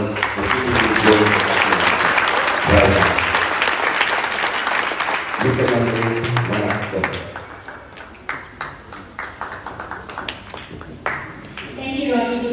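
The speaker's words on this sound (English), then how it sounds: "Could I ask everyone just to put their hands together and just give a round of applause to Uncle Ronald for keeping this going." A Ram Bhajan anniversary audience gives a sustained round of applause, dense and loud for several seconds, thinning into scattered claps toward the end while speech runs underneath.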